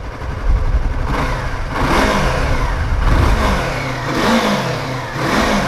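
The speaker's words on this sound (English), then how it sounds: "So give you guys some revs with this exhaust over here." A 2015 Yamaha R3 motorcycle revs through its exhaust close by, several rising and falling throttle blips over a continuous engine drone, loud and with no speech.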